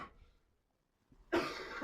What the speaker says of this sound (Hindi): खांसी जो हो रही है खतरनाक